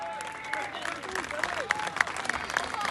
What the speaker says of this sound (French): Mesdames et messieurs, veuillez applaudir Alexandre Achard.